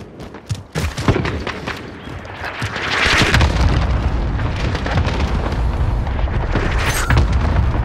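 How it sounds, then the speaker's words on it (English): Cluster strike explosions in Call of Duty Modern Warfare multiplayer begin with a few sharp impacts, then swell into a loud, continuous rolling barrage of booms and thuds that carries on to the end. "Allied cluster strike inbound"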